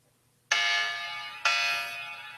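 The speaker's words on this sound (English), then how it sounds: "But you can see the alarm coming on." Hyperthermia treatment device alarm sounding at home: two loud, steady electronic buzzer-like tones, the first starting sharply and holding about a second, the second following immediately and fading slowly, with no talking.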